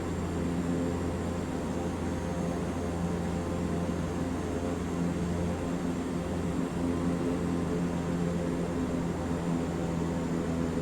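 A steady drone of an old propeller airplane close by in Flight Simulator 2024, a continuous engine hum with broadband hiss holding at an even level throughout.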